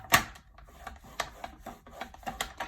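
Paper being scored with a scoring tool for a tea bag gift box, a sharp initial scrape followed by several close, short rasping strokes and taps at irregular intervals.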